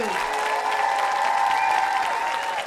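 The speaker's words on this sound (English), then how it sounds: "Let's give a round of applause for Mr. Brian Montemilano." An audience at a band camp applauding the marching band director, a dense, steady wash of clapping that stays loud throughout with faint crowd voices and a whistle-like tone mixed in.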